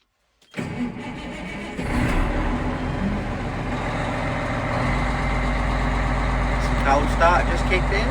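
A farm vehicle's engine cranks and catches on a cold start, then settles into a steady, loud, rumbling idle close by, with a rise in revs partway through and voices heard over the running engine.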